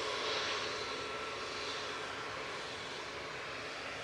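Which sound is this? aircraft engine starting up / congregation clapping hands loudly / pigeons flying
aircraft engine starting up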